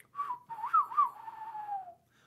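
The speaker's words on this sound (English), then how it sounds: "this tune that they're playing right here, sounds like an old western tune, like like with a whistle" A whistle carries a short melodic phrase from a Norwegian military tattoo band tune: a clear, fairly close line of a few rising and falling notes that ends in a long held tone.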